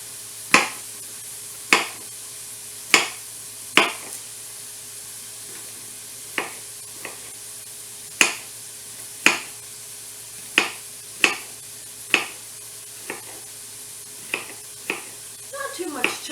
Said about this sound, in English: I'm just going to slice these